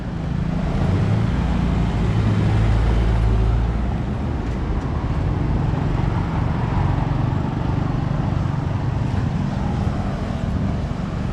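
Sparse morning traffic on an inbound lane toward downtown Chiang Mai, Thailand: a steady, broad rumble of passing vehicles with wind buffeting the microphone, continuous and fairly loud, with no voices.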